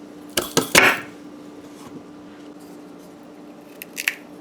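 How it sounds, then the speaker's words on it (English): Knife cutting peeled cassava roots in half in a kitchen, a quick cluster of crisp chopping thuds and crunches, followed by quiet and a couple of fainter cuts near the end. "we're just gonna cut them in half like this here before we put them into boil"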